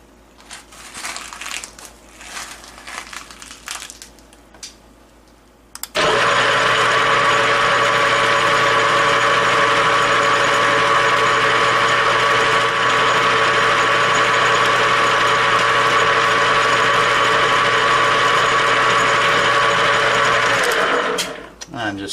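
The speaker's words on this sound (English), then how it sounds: "I'm just going to start the lathe, and I'm going to start gently turning the knob until I get a good knurl." A metal lathe knurling a part starts up after a few quiet seconds of faint workshop noise, then runs as a loud, steady whir with a constant tonal hum until it cuts off at the end.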